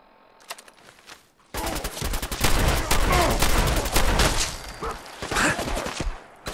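Shotgun fire in the video game Fallout 4 breaks out after a quiet moment into a loud, dense string of rapid blasts. The shots overlap into a near-continuous volley with a few brief dips.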